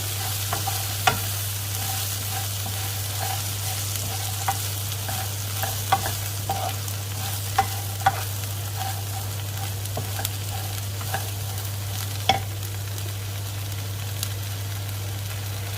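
Food sizzles steadily in a pan while a utensil scrapes and clinks against it at irregular intervals, with a constant low hum underneath.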